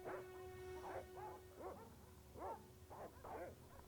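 Dogs bark in Broken Sword: Shadow of the Templars Reforged, a run of six or seven quick yapping barks with short gaps, clear and mid-distance over a faint steady tone and low rumble.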